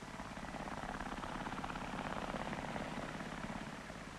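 A Bristol Belvedere Type 192 twin-engine tandem-rotor helicopter gives off a loud, steady, throbbing rotor and engine drone that holds close and unbroken throughout.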